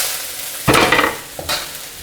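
Green beans and artichokes hit hot garlic oil in a pan, giving a sudden loud burst of sizzling frying with stirring, then a brief second surge before settling to a steady hiss.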